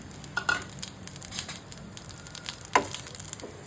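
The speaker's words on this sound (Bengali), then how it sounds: "তারপর তেলটা গরম হয়ে গেলে এটা তেলের মধ্যে দিয়ে দিতে হবে" Onion sizzles and fries in hot oil in a pan on the stove. A close, crackling hiss runs throughout, with a few sharper pops and scraping stirs.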